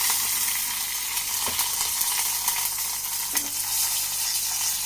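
A steady, close hiss of dried red chillies and curry leaves sizzling in hot oil with a little turmeric for a Kerala mango curry tempering, broken by a couple of soft pops and stirring sounds.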